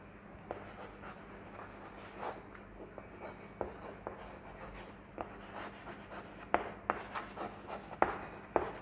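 Pen scratching across paper while writing out a pamphlet invitation, soft irregular strokes and taps close by over a faint steady hum, with no talking.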